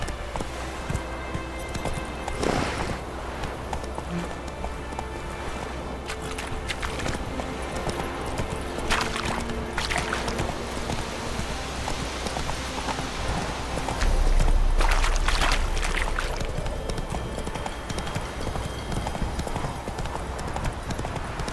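Hooves of Roach, Geralt's horse in The Witcher 3, clip-clop at a steady galloping rhythm for a long stretch, mixed with game ambience and occasional louder thuds and a swelling rumble midway.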